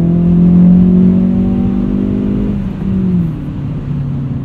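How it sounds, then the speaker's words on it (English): The turbocharged engine of a 2016 Hyundai Veloster Turbo Rally Edition holds a steady, loud revving drone at high revs with a slight dip and recovery partway through, running close by with no talk. "This holds its power band pretty well into the higher revs."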